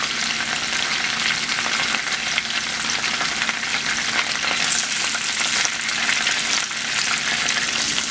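Shrimp fry in hot oil in a pan with a continuous, bright sizzle, steady and close, with faint stirring noises running under the crackle.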